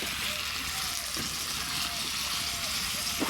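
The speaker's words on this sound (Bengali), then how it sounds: "ভাজিটা দিয়ে দিলাম" Vegetable bhaji frying in a pan over a wood-fired stove, giving a steady, dense sizzle with a few soft stirring scrapes, close and continuous.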